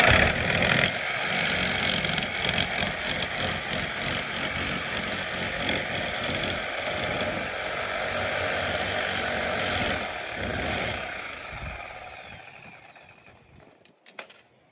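A Sawzall reciprocating saw cuts apart an air conditioning unit, a loud, steady buzzing drone held for about twelve seconds before fading out, followed by a brief clank.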